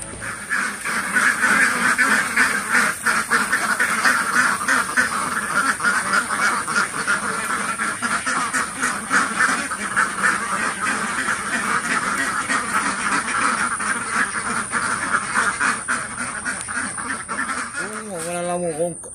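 A flock of about 400 laying ducks in a backyard pen, quacking loudly and constantly in a dense overlapping chorus close by, with people talking now and then underneath.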